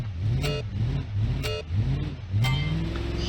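Simulated car engine in the BeamNG.drive driving game, revving in repeated rising surges roughly once a second, loud and close, with no talk over it.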